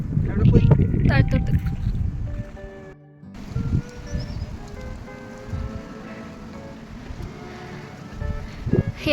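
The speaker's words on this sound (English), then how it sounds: "Here is so much wind," Strong wind buffets on a foggy hillside trek, a loud rumbling roar with gusts that drop briefly before returning, while people talk over it.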